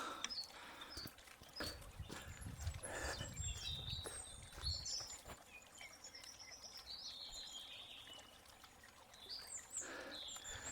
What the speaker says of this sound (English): The birdsong is really beautiful.